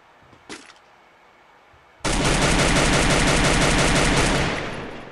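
Gunfire in the Free Fire video game: a single shot, then a sustained rapid burst of automatic fire that is loud, close and dense, rattling for about three seconds before easing off.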